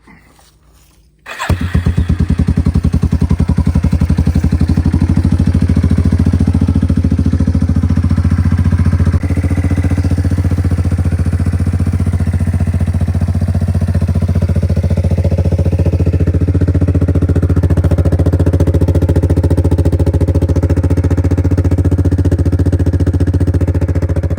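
A Yamaha Big Bear ATV engine fires up after a moment of quiet and settles into a loud, steady, close idle that chugs evenly for over twenty seconds without speech.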